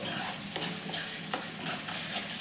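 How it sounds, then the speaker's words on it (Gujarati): Spoon stirring spice paste into mung beans and tomatoes in a hot pan, soft scraping strokes over a steady low sizzle, close and fairly quiet with no voices. "હવે એમાં આપણે હવે મસાલાની પેસ્ટ ઉમેરી દઈશું બધું બરાબર મિક્સ કરી દઈશું"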